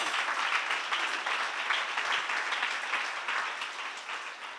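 A congregation at a church seminar applauds steadily, a dense wash of clapping that holds at an even level and fades slightly toward the end.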